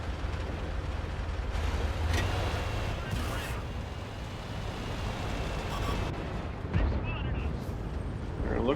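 Artillery shells land in a 50TP tank game, producing a few muffled, distant booms over a dense, constant rumble of battle noise.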